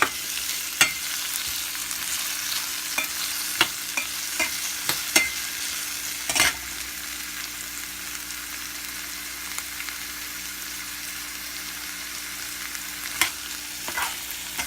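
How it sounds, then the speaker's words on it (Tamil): Onions sauté in a pan for pepper chicken gravy, giving a soft, continuous sizzle. Sharp scrapes and clinks of a spoon come at irregular intervals, and nobody speaks. "வெங்காயம் கொஞ்சம் நல்லா வதங்கட்டும்."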